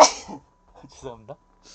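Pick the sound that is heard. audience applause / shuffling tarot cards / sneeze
sneeze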